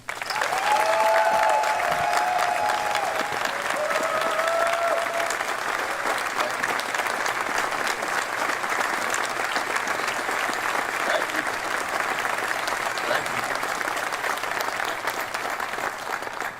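An audience at a university event welcomes Buzz Williams, the new Maryland men's basketball head coach, with sustained, loud applause, a thick unbroken wash of clapping that keeps up evenly from start to finish.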